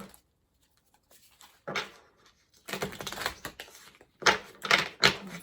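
Tarot cards shuffled by hand in a deck, giving several bursts of crisp riffling and papery flutter between pauses, close and moderately loud, with no talking.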